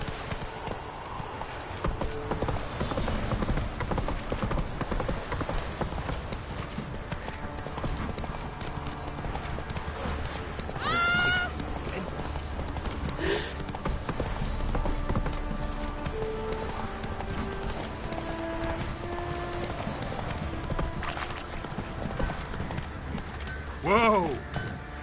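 A horse gallops in The Witcher 3, with rapid rhythmic hoofbeats running throughout over game ambience, a couple of short whinnies, and voices speaking at times.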